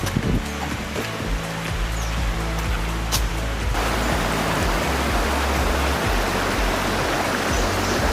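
A small forest stream in the Wayanad rainforest rushes with a steady, dense hiss of flowing water, close and continuous, with no voices over it.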